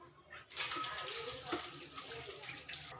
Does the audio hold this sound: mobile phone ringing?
no